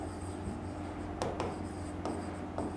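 Scratchy handwriting strokes of notes being written out for an exam-revision lesson, a few short quick scrapes in close succession over a steady room hum.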